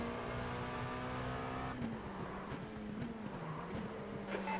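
LMP race car at Daytona International Speedway heard from inside a racing car, a high steady engine whine with dense harmonics that shifts pitch as the other car closes and passes, sustained and fairly faint, no talking.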